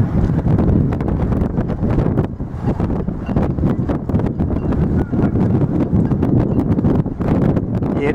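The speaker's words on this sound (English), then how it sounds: "it's a little windy out here" Strong wind buffets a microphone outdoors at a construction site near One World Trade Center in New York, a loud, continuous low rumble with gusty swells that fills the whole stretch.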